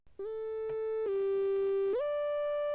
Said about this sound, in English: we have this little sine wave lead.